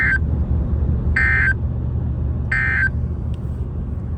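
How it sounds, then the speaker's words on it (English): NOAA weather radio alert tone during a required weekly EAS test for South Central Texas: three loud, even tone bursts about a second apart over a steady low rumble. "The warning alarm tone will be activated for hazardous conditions."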